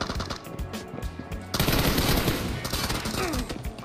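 Gunfire in a team deathmatch shooting video game match: rapid automatic bursts and single shots in quick succession, loud and close, with a denser heavy burst in the second half.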